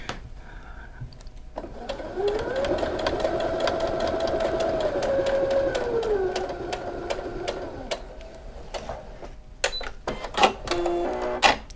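A home sewing machine stitches a quilt in one steady, close whirring run of about six seconds, followed by sharp clicks and handling sounds as the fabric is adjusted.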